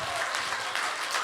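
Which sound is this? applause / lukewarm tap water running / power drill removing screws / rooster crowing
applause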